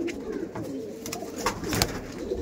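A pair of Andhra fulshira pigeons coo close by in low, throaty repeated calls, joined by a few sharp clicks and rustles.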